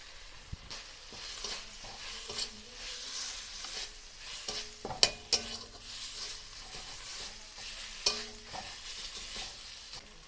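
Pointed gourd pieces fry and sizzle in a pan while ground turmeric, chili, cumin and coriander are stirred in, with steady close sizzling broken by scraping stirs and a few sharp utensil clinks.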